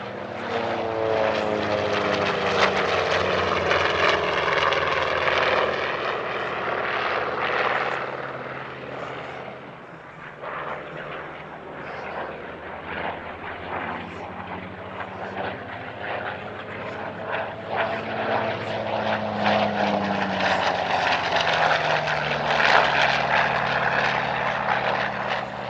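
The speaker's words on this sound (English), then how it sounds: "a two-ship performance featuring an OV-10B Bronco and AD-4N Skyraider could be arranged" An OV-10B Bronco and an AD-4N Skyraider, propeller warbirds at an airshow, fly by with a sustained loud engine and propeller roar that dips briefly and swells again as they pass.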